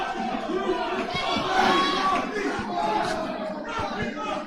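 Crowd at a boxing match between Josh Quailey and Phil Williams, a busy murmur of chatter and raised voices with commentators talking over it, fairly close and steady.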